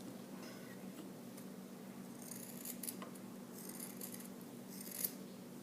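Scissors snip through a doll's hair in several short, quiet clicking cuts clustered toward the second half, with no talking over them.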